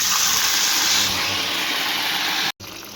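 Potato slices for homemade chips sizzle in hot oil with a steady, loud, close hiss that cuts out abruptly for a moment near the end.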